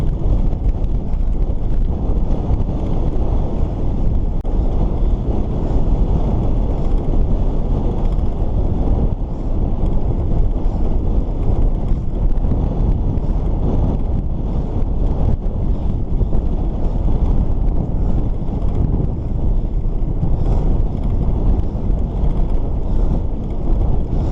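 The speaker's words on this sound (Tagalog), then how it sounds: "Sobrang lakas talaga ng hangin." Strong wind buffets the microphone during a bike ride through town, a loud, steady roar that stays constant without a break.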